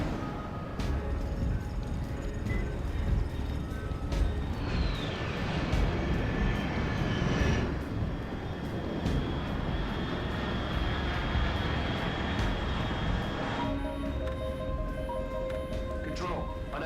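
Aircraft engine drone in the Metal Gear Solid Delta: Snake Eater video game, a continuous roaring rumble that swells mid-clip and fades, with game dialogue over it.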